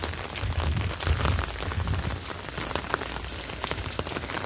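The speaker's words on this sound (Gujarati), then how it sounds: "થોડો થોડો વરસાદ આવે છે" Light rain falls on a rooftop terrace, a dense, even patter of drops that holds steady throughout, with no voices.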